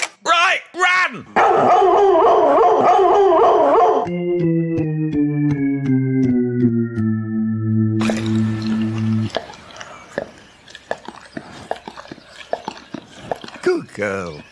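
A family dog yaps and whimpers excitedly during a burst of scampering near the start, then people talk and make fond, cooing sounds over her, with a long sustained note sounding in between.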